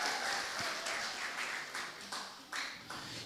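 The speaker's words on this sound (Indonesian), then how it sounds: "Tepuk tangan dulu." Brief, fairly faint applause from a seminar audience in a church setting, uneven clapping with a few distinct louder claps standing out toward the end.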